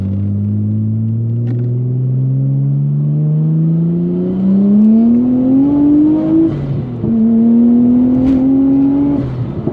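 A Nissan Skyline Tommy Kaira edition revs hard, its engine note rising steadily in a long pull, dipping briefly at a shift, then climbing again, loud and close with no one talking.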